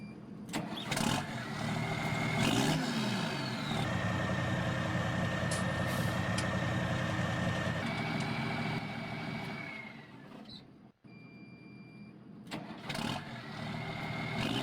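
A heavy diesel engine of a Fendt Vario T Proto tractor in Farming Simulator 19 cranks and starts, then idles with a steady rumble, punctuated by beeps and a brief hiss of air, close and loud.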